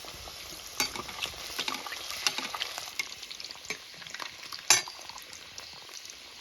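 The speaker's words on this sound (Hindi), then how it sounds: "दूसरे साइड भी अंदर से इनको हम अच्छे से फ्राई कर लेंगे" Kashmiri breakfast snacks fry in a pan with a soft, steady sizzle, broken by scattered clicks and one sharper knock near the end, with no talking.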